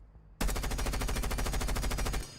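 A gun in the video game Rainbow Six Siege fires in rapid automatic bursts. The shots form a loud, even, continuous rattle that starts abruptly and runs for about two seconds before stopping.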